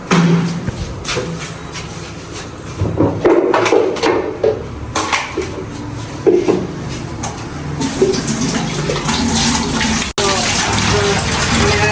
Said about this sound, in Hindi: अब ये मैं जग में पानी भर के बोतल में डाल दूँ।